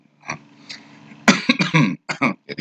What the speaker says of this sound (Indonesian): Jadi batuk saya.